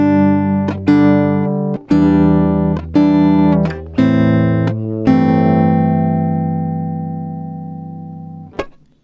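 Acoustic guitar strums the chord pattern of a song without a capo, six or seven clear strums spaced about a second apart, the last chord ringing out and fading before a final string pluck.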